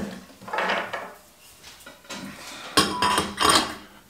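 A large metal filter plate is fitted into a Speidel Braumeister brewing machine, giving several clanking, scraping metal knocks with short pauses between, with the sharpest clanks near the end, close by and with no talk.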